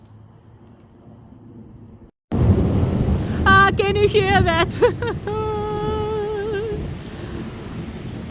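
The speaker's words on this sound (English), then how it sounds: "It's summer thunder and it's raining." Summer thunder rumbles over steady rain at an outdoor cookout, with a broad roar of falling water and low rolling thunder under brief voices and calls nearby.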